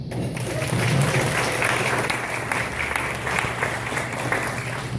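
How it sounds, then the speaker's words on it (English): Wedding guests applauding during a best man's speech at a reception, a full, steady roomful of clapping that swells early and holds throughout, with a low hum underneath. "So a round of applause for them"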